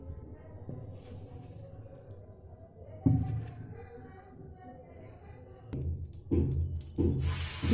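Fermented dosa batter with baking soda, salt and water being mixed by hand: a soft, continuous rubbing and squelching close by, growing louder in uneven bursts toward the end.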